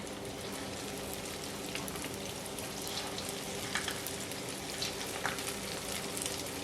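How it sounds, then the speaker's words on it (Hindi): Samosas sizzle steadily in hot oil over high heat, a dense, even crackle with faint pops, close and continuous with no talking. "अब ये फ्राई होंगे और फ्राई होने के बाद फिर मैं आपको दिखाऊंगी कि कैसे हो रहे हैं।"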